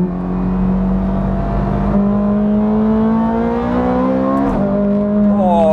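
Ferrari 430 Scuderia climbing a hill under hard acceleration, its engine note rising steadily then snapping through a quick upshift near the end, loud and close with no talking.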